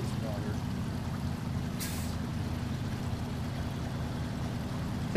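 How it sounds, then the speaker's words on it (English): A truck in the SnowRunner video game drives through water, its engine a steady, heavy low drone with one short hiss partway through. "Now I gotta cross this water."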